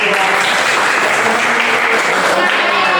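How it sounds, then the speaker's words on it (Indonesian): A group claps together in steady, continuous applause for a few seconds, fairly close and loud. "Oke, tepuk tangan dulu."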